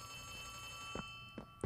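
Telephone ringing in the Poppy Playtime video game: a faint electronic ring with a steady tone and three short knocking pulses near the end, no talk.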